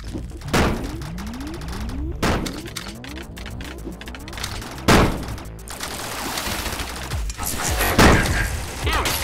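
Grenade launcher shots in the Rec Room video game, several heavy thunking blasts at irregular intervals amid busy gunfire and clatter, loud and close throughout.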